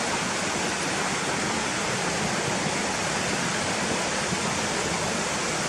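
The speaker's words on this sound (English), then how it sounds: "you hear the river running fast to the right of us" A fast river rushes nearby, a dense, steady roar of flowing water that stays loud and unbroken throughout, with no voices.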